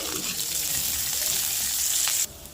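Tempering seeds crackle and sizzle in hot oil in a pan, a loud continuous frying hiss that cuts off sharply near the end, with no one talking.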